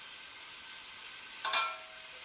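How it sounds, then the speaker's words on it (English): A quiet, steady sizzle of beef browning in hot oil in a pot for stew, with a brief louder crackle midway. "You hear the sizzle."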